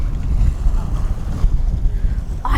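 Strong wind buffets the microphone on a beach, a loud continuous low roar with gusty swells throughout.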